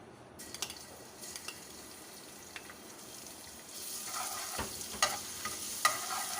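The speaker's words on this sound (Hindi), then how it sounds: "पैन के अंदर मैंने 3 टेबल स्पून ऑयल के डाल दिए हैं। अब हम इसके अंदर डाल देंगे लहसुन।" Garlic fries in about three tablespoons of oil in a pan: a faint sizzle with light stirring clinks grows louder and crackly midway, heard close with no voices.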